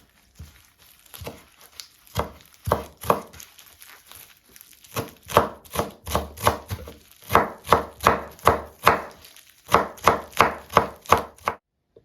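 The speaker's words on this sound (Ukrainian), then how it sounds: "Петрушка, зелена цибулька, базилік, окроп. Дрібненько нарізаємо." A knife finely chops fresh parsley, green onion, basil and dill on a cutting board, bursts of quick even taps separated by brief pauses, close and crisp.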